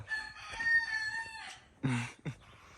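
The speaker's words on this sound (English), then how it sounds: "Rooster tell you good morning man." A yard rooster crows a long, drawn-out cock-a-doodle-doo close by, followed by a couple of short clucks.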